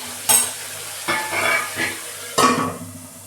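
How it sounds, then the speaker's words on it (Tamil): Chopped tomatoes sauté in a hot pan for a mushroom gravy, a close sizzle broken by three loud bursts of stirring and scraping, with no voices. "பொடியாக நறுக்கி வச்சுருக்க தக்காளி, சின்ன தக்காளி இருந்தால் 3 தக்காளி சேர்த்துக்கோங்க, பெருசாக இருந்தால் 2 போடணும். இதுவும் நல்லா சேர்த்து வதங்கட்டும்."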